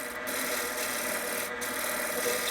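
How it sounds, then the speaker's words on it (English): Shear scraping on wood turning on a lathe gives a steady, close, dry rasping hiss with slight rhythmic variation and no voices. "I'll shear scrape it to get rid of that torn grain."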